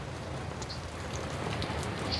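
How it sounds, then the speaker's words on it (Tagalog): Heavy rain pours steadily, a dense, hissing wash of drops striking surfaces with no pauses. "Ang lakas ng ulan."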